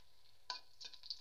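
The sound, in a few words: dried chillies frying in oil in a wok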